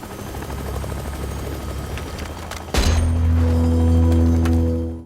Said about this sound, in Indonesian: saat akan menaiki helikopter, JD tiba-tiba ditembak mati oleh tim penjemput